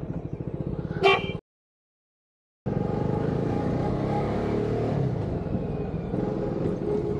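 Road traffic heard while riding, a steady rumble of engines with a short horn-like burst, a brief dropout to silence, then continuous vehicle noise around the rider.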